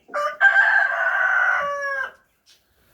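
A single rooster lets out one long, loud crow close by, with its drawn-out harmonic call lasting about two seconds before a brief faint cluck and then quiet.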